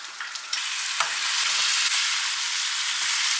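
Flour-coated food frying in hot oil gives a loud, dense, continuous sizzle close up, with a few stirring scrapes near the start and no voices.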